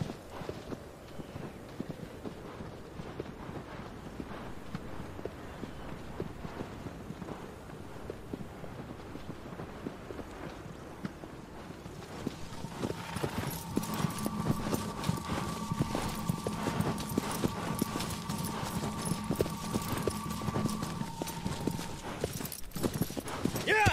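A horse's hooves clip-clop at a steady walking rhythm in the video game Shadow of the Colossus, quiet at first and then louder in the second half as sustained musical tones join in.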